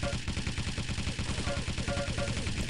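Machine gun fire in a Quake match: a continuous, fast, even rattle of shots over the full length, with a commentator talking over it.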